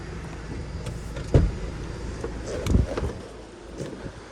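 A low electric motor whirs in short bursts, with a couple of louder mechanical clunks as the sunroof panel slides, inside a quiet parked 2007 Honda Accord.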